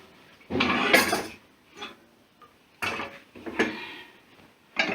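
A pot of washed okra set down on a stovetop, giving a few separate metallic clunks and clatters of cookware, close and fairly loud, with quiet pauses between them.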